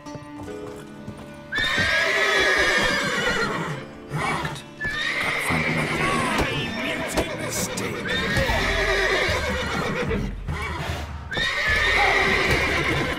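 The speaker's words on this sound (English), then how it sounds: "These horses are so strong." Horses in The Witcher 3: Wild Hunt neigh and whinny loudly over steady clip-clopping hooves, with several long whinnies spread across the stretch and no talk.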